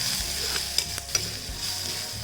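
Crushed fenugreek stirred in a frying pan for an eggplant and egg bhorta, soft sizzling under a few close spatula scrapes and taps over about two seconds.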